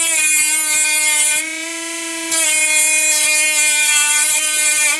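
A cheap Chinese mini grinder/engraver runs at a steady high-pitched whine while deburring metal, dipping briefly in pitch under load and then recovering, close up and loud, with no voices.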